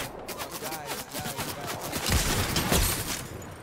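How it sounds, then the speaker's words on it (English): Rapid volleys of gunfire crack through a Fortnite duos match, repeated sharp shots building louder toward the end, with a player talking over the action. "I hit him with a good shot with a sniper"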